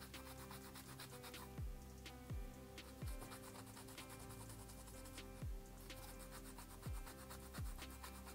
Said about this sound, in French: vous allez poncer les deux surfaces du métal.